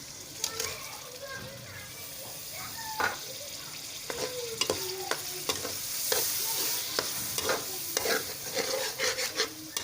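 Yogurt is stirred into a dal masala for Mughlai shahi dal and sautéed in a pan, with a soft steady sizzle under repeated scraping strokes of a spoon, close and moderately loud.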